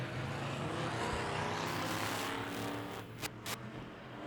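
Factory stock cars roar around the Tulsa Speedway track in a steady, dense engine drone that swells and thins as the pack passes, loud and continuous throughout.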